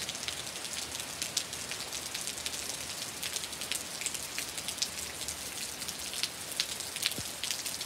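Steady rain falls outdoors, a dense, even patter of drops hitting surfaces nearby, continuous and fairly soft with occasional sharper splashes.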